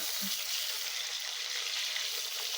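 Rohu fish pieces shallow-frying in oil in a pan, a dense, even hiss of sizzling close by, with a faint soft knock as the pieces are turned at the start.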